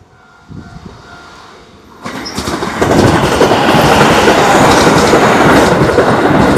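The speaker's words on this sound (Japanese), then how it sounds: "すぐにね、3番線の列車が通過いたします。" A train rushes through a Japanese station on track 3, rising from faint rumble to a loud, sustained roar of wheels and rail clatter close by.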